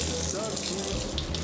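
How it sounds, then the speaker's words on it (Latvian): Tap water runs in a kitchen sink while yellow and red bell peppers and chili are rinsed under it, a steady, close, continuous hiss and splash throughout. "Dārzeņus mēs noskalojam."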